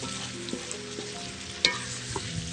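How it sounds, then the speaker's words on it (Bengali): Drumstick pieces and potatoes fry in spice paste in a pan, giving a steady close sizzle, with a few scraping stirs and light clinks of the spoon. "এখন দেব কেটে রাখা সাজনা আর আলু, দিয়ে ভালো করে কষিয়ে নিব"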